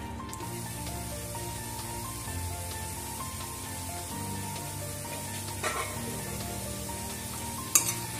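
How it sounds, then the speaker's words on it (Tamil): Chopped tomatoes sautéing with a little salt in a pan while making mutton biryani, a steady, close frying sizzle with stirring scrapes throughout and a sharp clink near the end. "தக்காளி பழம் நல்லா வதங்கணும், அதுக்காக கொஞ்சமாக உப்பு சேர்த்துக்கோங்க"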